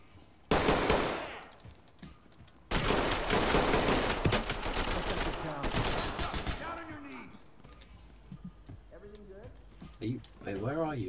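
Loud, close bursts of automatic gunfire in the tactical shooter Ready or Not come in two long volleys and a shorter one, followed by voices talking over a lingering rumble.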